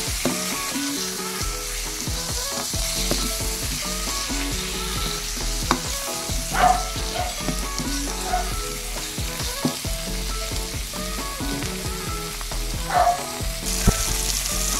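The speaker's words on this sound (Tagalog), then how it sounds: "Ihulog natin ang nilaga nating talong at dinurog. Haluin." Boiled, mashed eggplant is stirred in a hot pan while it fries: a continuous close sizzle with repeated scraping and clinking strokes of a utensil against the pan, and no voices.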